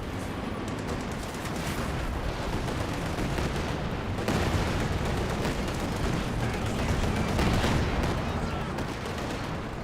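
Tank battle gunfire in Company of Heroes 2, with a Panzer engaging a Sherman tank: a dense, continuous barrage of shots and explosive booms with a commentator talking over it.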